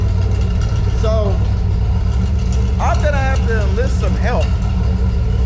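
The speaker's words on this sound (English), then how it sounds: "Everything's running, and it's pulling gas from the tank now." A Dodge D100 pickup truck engine idles steadily after a Mustang fuel tank swap, giving a constant low rumble with faint voices over it.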